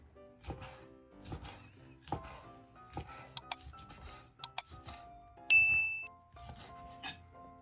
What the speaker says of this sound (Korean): 삶은 갑오징어는 먹기 좋은 크기로 썰어주세요.